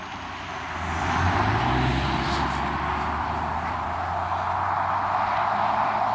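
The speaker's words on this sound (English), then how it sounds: "So when you hear a truck being really loud, Jake brake." Truck using a Jake engine brake on a road, a low growling engine drone rising and holding steady under broadband road and wind noise.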